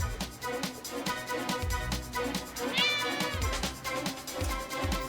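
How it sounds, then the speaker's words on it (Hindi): A cat meows in an animated show, with a rising, wavering cry partway through over a busy background of music and effects. "ओह, अच्छा बिल्ली है।"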